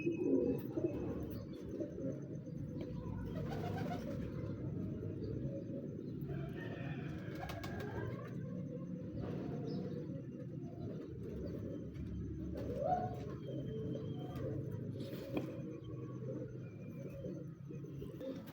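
Flying pigeons kept by a fancier coo softly and repeatedly, low throaty calls over a quiet, steady background.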